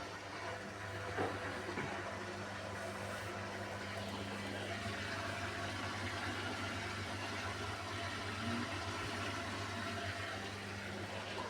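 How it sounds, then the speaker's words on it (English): A new drain pump in a Beko WMY81283LMB2 washing machine runs in service test mode, a steady low mechanical hum with a faint watery whir, unbroken and even throughout. "You can see the drain pump sounds new because I did service mode test with new drain pump."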